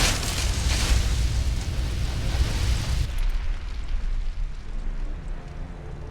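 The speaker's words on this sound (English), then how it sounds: "Frag out." A frag grenade explodes in the video game Fallout: New Vegas with a dense, rumbling blast. The roar sustains for about three seconds, then fades into a lower, muffled tail.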